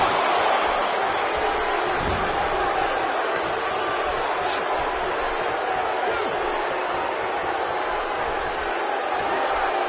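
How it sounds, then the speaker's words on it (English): A steady, diffuse crowd buzz in a WWE 2K17 video game wrestling arena, holding a constant roar throughout with faint thuds scattered in. "The crowd is buzzing."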